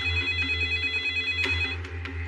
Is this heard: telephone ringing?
yes